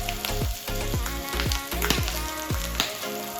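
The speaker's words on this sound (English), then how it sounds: "Grill the surface over high heat." Pork ribs for Japanese chashu sear over high heat in a pan, a loud continuous sizzle broken by regular sharp pops and crackles roughly every half second.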